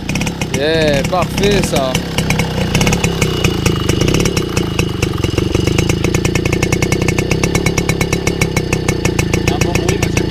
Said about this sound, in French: on va voir si ça démarre